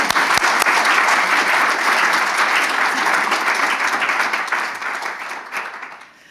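Sustained warm applause from an audience welcoming a speaker at an artists' books talk, dense steady clapping that holds for several seconds and then fades out.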